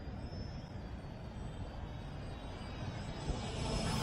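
An Eachine E520S GPS camera drone drones steadily in flight, a constant whirring hum that holds level throughout with no voices, heard from a moderate distance outdoors.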